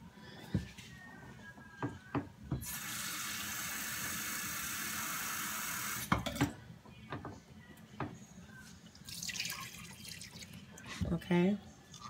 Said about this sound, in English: And now I'm gonna add 1 cup of water.